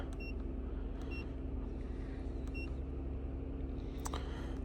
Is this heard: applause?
no